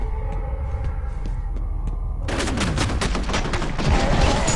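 Sniper gunfire in the video game FEAR: after a quieter stretch, a dense burst of sharp shots and impacts erupts and continues, loud and close, with no talking.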